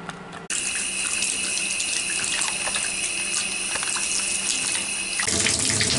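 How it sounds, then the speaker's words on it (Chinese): Hot water gushes steadily from a freshly cleaned bathroom or kitchen tap, not fully open, a loud continuous splashing rush that starts abruptly and runs alone. "这个就是清洁之后的热水出水量，我还不是开到最大呢"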